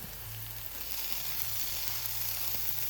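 Chopped garlic and small onions sizzle in a hot pan for a prawn roast, a steady close hiss of frying oil that runs evenly with no talking.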